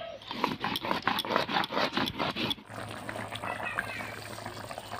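Water boiling in a pot holding a cauliflower and egg curry, a steady bubbling simmer that starts with busy clicking and popping, then settles into a softer, even bubbling hiss, close and alone.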